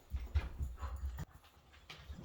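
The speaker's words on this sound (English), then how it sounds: "Dogs." Dogs barking and whimpering in a room, with a few soft, muffled low thumps and yelps in quick succession, faint and somewhat distant.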